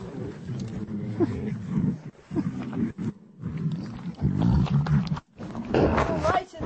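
Lions roar and growl at close range, deep, loud rumbling bursts repeating over several seconds while someone talks over them.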